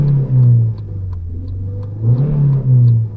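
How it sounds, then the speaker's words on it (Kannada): A Honda Civic 1.8 i-VTEC sedan accelerating, its exhaust giving a loud, close, smooth engine drone that rises, settles, then swells again in two revving surges, with no voices. "ಸೊ ನೋಡ್ತಾ ಇರ್ಬೋದು ಎಕ್ಸಾಸ್ಟ್ ನೋಟ್ ಹೇಗಿದೆ ಅಂತ"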